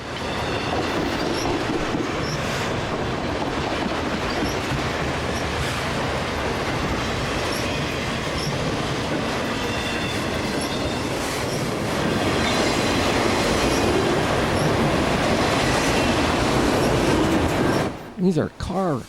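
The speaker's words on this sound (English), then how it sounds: "And a super long train." A very long freight train carrying car haulers rolls steadily past, with continuous loud rumbling and clatter of wheels lasting many seconds before cutting off sharply; a voice is heard speaking over it.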